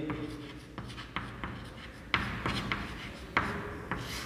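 Chalk or pen strokes writing out a Sanskrit definition by hand, a series of short scratchy taps and scrapes at an irregular rhythm, close and fairly quiet, with no talking.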